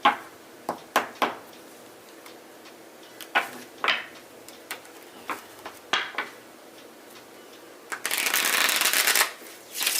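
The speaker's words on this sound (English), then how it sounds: "I'll do one more quick shuffle." Tarot cards are shuffled by hand in a series of sharp riffling bursts spaced a second or so apart, close and clear in a quiet room, ending in one longer continuous shuffle.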